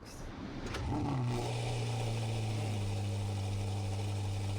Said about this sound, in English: Take a listen to an exhaust rev or two from the SF90XX.